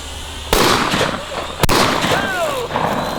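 Explosive blasts hit a DJI drone in mid-air: two sharp, loud bangs in quick succession, each followed by crackling debris and rumble, with excited voices and a whistling tone after the second burst.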